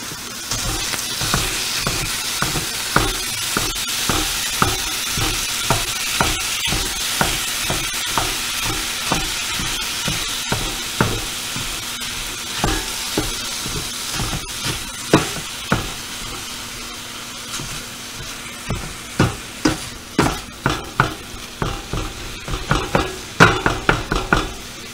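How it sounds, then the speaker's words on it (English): Ground beef sizzles and fries in a skillet with a steady hiss, while a utensil repeatedly scrapes and chops at the meat in quick, close clacks that grow sharper toward the end. "add my ground beef to the skillet, and I'm going to chop it up into smaller pieces and fry that until it's completely done."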